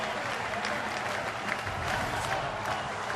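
A large Tuesday-night baseball crowd at PNC Park claps and cheers in a dense, continuous wash of applause, loud and sustained throughout.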